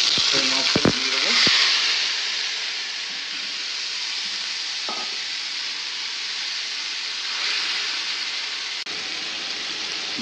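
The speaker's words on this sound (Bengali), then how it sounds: "তেলটা আমাদের সুন্দর গরম হয়ে গেল। এবারে যে মাছটা আমরা ম্যারিনেট করে রেখেছিলাম সেই মাছটা দিয়ে দেবো।" Marinated Lotte fish goes into hot oil with cumin and fries in a loud, continuous sizzle that stays close and steady throughout, with a few brief clatters near the start.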